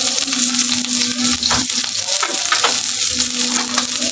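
Ginger and chili stir-fry sizzles in a hot pan, a continuous frying crackle punctuated by scraping and clinking strokes of a spatula, close and steady with no voices.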